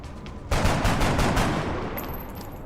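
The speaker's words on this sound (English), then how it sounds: "The SMG hit for 4!" Submachine gun fire in the video game XCOM Long War: a loud, close burst of rapid rattling shots that begins abruptly after a quiet start and then fades into a lingering tail.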